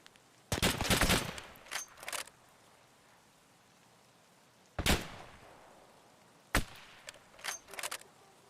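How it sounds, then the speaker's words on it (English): Gunfire in Escape from Tarkov: a sharp burst of several rapid shots, then a lone crack, followed by another single shot and a short trailing burst, all fairly loud against quiet background. "How are you shooting at me?"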